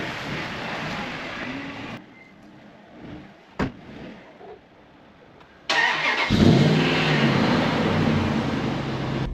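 A 2002-2005 Dodge Ram 1500 pickup with a 5.7 Hemi V8 and a weak battery is heard near and quiet at first, then its engine catches suddenly and roars into a loud, steady run.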